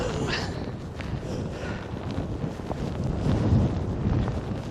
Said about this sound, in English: With some pretty heavy gusts of wind.